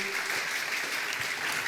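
A church congregation applauding during a sermon; dense, steady clapping from many hands filling the room, loud and continuous without pause.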